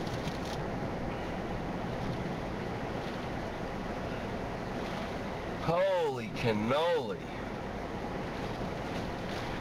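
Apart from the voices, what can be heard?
hurricane ocean waves and wind hitting a pier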